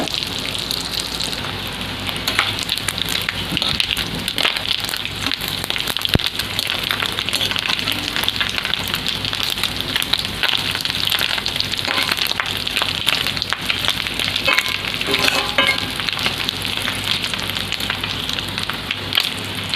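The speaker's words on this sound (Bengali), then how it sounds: "তো ডিমটাকে আমি এইভাবে কেটে কেটে উল্টে পাল্টে ভেজে নেব" Fish roe fritters fry gently in a pan over low heat, a continuous soft crackling sizzle with dense spitting pops, steady and close throughout, with no voices.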